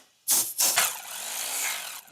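A burst of compressed air blows dust off a part on an imported car during maintenance, beginning with a loud broad hiss that cuts out briefly and then resumes as a steady close rush lasting over a second.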